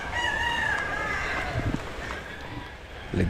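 A wet chicken outdoors after rain makes short crowing and clucking calls at moderate distance over a steady hiss of background noise, with a brief low thump near the end.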